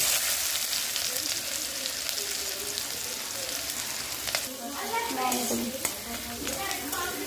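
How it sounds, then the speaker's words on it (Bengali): Chopped onions fry in a pan with chilli flakes and cumin for pav bhaji, giving a constant loud sizzle with scraping stirs and light clinks of the spoon throughout. "এবার পেঁয়াজ কুচিটা একটু এই যে আমরা নেড়ে নিলাম।"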